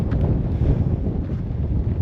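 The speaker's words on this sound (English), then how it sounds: "It is just incredibly windy." Strong wind roars and buffets against the microphone in Death Valley, a loud, continuous low rumble with gusty swells and no voices.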